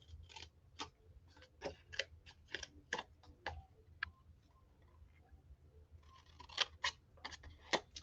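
Close, quiet scissors snipping through a paper banner from the corner up to a cut mark for a handmade card, with quick repeated crisp cuts in two runs separated by a short pause.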